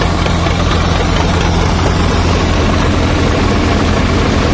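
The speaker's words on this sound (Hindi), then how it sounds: "1000 RPM पे ट्रैक्टर सर, 1000 RPM इसकी टेस्टिंग कर रहे हैं।" New Swaraj 744 XT tractor with its diesel engine held at 1000 RPM while driving a new thresher, a loud, steady low rumble that continues unbroken at close range.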